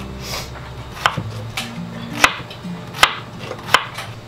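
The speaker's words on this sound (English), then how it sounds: "I'll finish cutting up the cachuchas" Cachucha peppers chopped with a knife on a board, sharp irregular knocks spaced through the clip with faint scraping between them, close and clear, with no voices.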